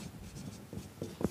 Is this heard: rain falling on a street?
no